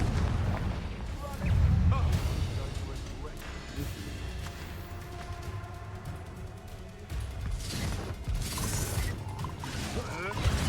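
Explosive bursts from the Confringo fire spell in the Hogwarts Legacy video game, booming crashes and rumbling impacts during combat, heard under excited shouting by a live-streaming player.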